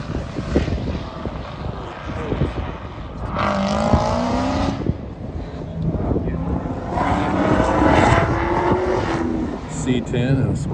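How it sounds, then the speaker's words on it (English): Cars race at an autocross event on a power tour, their engines revving and droning loudly close by, rising and falling in waves as they accelerate past, with crowd noise in the background. "So they're doing autocross over here."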